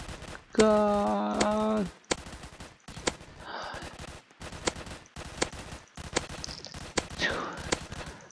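A Beam Launcher gun firing in the Roblox game Zombie Attack, a humming tonal shot followed by a series of sharp, quiet, muffled pops spaced about a second apart, with a brief voice.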